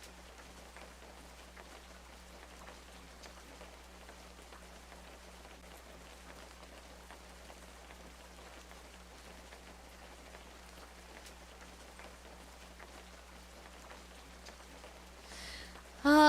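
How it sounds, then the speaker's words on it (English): Soft, steady rain falls in the video game A Story Beside, a faint continuous patter over a low background hum, alone until a brief louder burst right at the end. "All the thinking and the sounds of the rain are putting me to sleep too."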